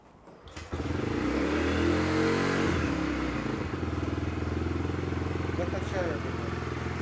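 Bajaj Freedom 125 motorcycle engine idling steadily just after a fuel-injected start, a fairly quiet, even near putter with a faint clatter that holds throughout.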